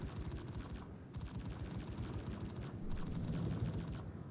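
Dense, continuous automatic gunfire from a video game, rapid bursts overlapping throughout with a steady loud roar and brief dips in intensity.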